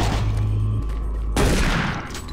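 Gunfire in the video game Doom 3 comes as a loud, dense fusillade with a heavy boom-like burst partway through, alone with no voices.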